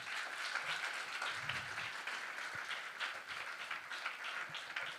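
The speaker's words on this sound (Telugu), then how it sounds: "ఎంత బాగుందో అంత గట్టిగా క్లాప్స్ కొట్టండి" A church audience applauds after a Christmas skit, with dense, sustained clapping from many hands throughout, heard at moderate distance in a hall.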